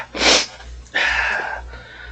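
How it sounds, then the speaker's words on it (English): A single sharp sneeze bursts out near and loud, followed by a breathy exhale and a snort in a quiet room. "I'm about to sneeze again."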